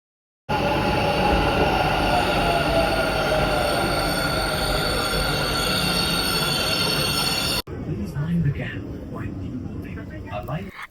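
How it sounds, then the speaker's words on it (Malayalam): A driverless metro train in Bengaluru roars loudly with rumbling wheels and a high squeal for several seconds, then drops away abruptly to a quieter station ambience with faint voices. "ഇത് ഇന്ത്യയിലെ തന്നെ ഫസ്റ്റ് ഡ്രൈവർലെസ് മെട്രോ ട്രെയിൻ ആണ്"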